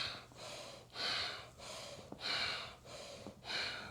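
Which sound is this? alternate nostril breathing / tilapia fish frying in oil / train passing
alternate nostril breathing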